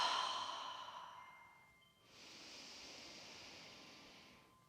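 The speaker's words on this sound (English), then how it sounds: "Take a couple deep breaths on your own." Slow deep breaths during a grounding yoga session: a long airy exhale fading out, a brief pause, then a steady, soft inhale, close and quiet.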